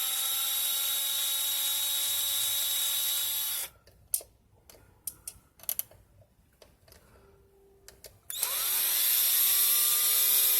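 Plunger tube back plate of a Nerf Longshot blaster being unscrewed by hand, heard as a run of small sharp clicks and ticks, close and quiet between stretches of steady loud whine.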